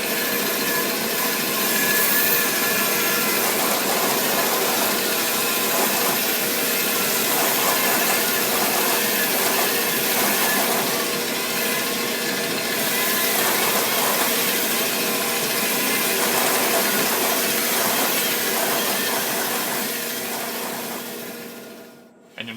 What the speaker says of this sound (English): Let's do a quick resaw.